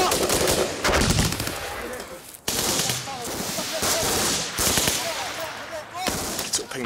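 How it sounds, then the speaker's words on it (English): Royal Marines return fire during an ambush in Afghanistan, loud bursts of rapid automatic gunfire and repeated close shots crack back and forth, with shouted voices between the volleys. "Nowhere was safe from ambush, but the Marines were always ready to return fire."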